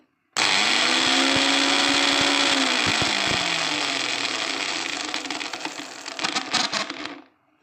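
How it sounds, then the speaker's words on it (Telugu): Mixie jar grinding nutmeg into fine powder, a loud continuous motor whir with rattling pieces, slowing and growing rougher near the end before cutting off. "ఒక 2-3 నిమిషాలు ఇలా మనం మిక్సీ జార్లో దాన్ని మెత్తగా పౌడర్ లాగా చేసుకోవాలి"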